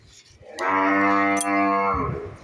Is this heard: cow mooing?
yes